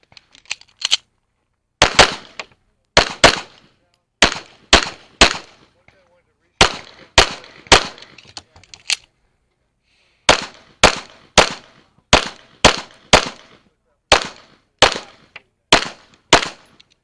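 Pistol shots ring out during an IDPA shooting stage at a national championship, sharp loud cracks fired in quick pairs and short strings with brief pauses between, heard close and alone.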